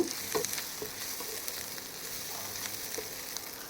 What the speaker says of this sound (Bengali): কাঁচা লঙ্কাটা দেওয়ার পরে একটু নাড়িয়ে চাড়িয়ে নেব